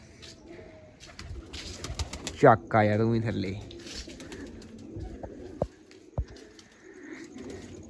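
Pigeons in a loft, including recently plucked birds sitting below, give soft cooing calls amid brief thumps and clatter, while someone talks nearby and a louder burst rises midway.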